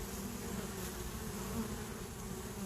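Honey bees buzz steadily at a busy hive entrance, a dense, continuous drone of many insects close by, with no talk.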